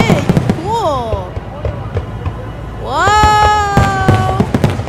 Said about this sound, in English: All those fireworks look really pretty and really cool.